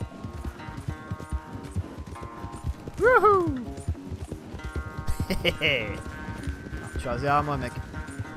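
Hooves of a galloping horse in Red Dead Redemption 2 beat in a steady rapid rhythm, with a whinny and game music over it, while someone talks and exclaims over the action.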